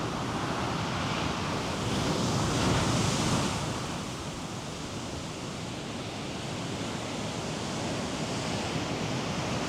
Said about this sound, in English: Tune into the ocean.